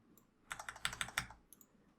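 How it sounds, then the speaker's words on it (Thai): Quick burst of typing on a computer keyboard, about eight crisp key clicks in a fast irregular run with a few softer taps before and after, close and quiet, no voices. "สามารถใช้คีย์บอร์ดช่วยด้วยก็ได้นะครับแบบนี้"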